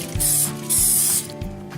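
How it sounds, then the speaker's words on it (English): Two short bursts of aerosol spray hiss from a can, each about half a second, with faint clicking of the nozzle between them. "I'm going to spray it with some cooking spray."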